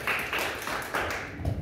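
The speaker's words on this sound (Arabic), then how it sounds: "صفقوا له." A few people clap for someone, a short run of sharp, close hand claps in an uneven rhythm, fairly loud and with no voices over them.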